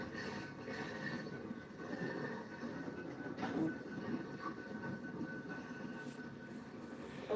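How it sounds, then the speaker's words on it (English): A train rumbles past at night, a steady low continuous roar with faint rail clatter and squeal, moderately distant and quiet, no voices. "Finally, the train is gone."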